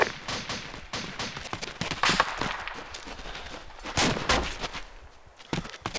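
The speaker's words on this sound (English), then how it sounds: "Oh, we're taking fire, dude." Rapid bursts of gunfire from the Arma 2 video game crackle throughout, sharp shots and short volleys of varying loudness with a brief lull near the end.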